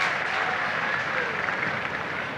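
Australian cricket crowd at the Sydney Cricket Ground applauding a four hit by O'Keefe in the 1970-71 Ashes Test, a steady wash of clapping and crowd noise held at an even level throughout.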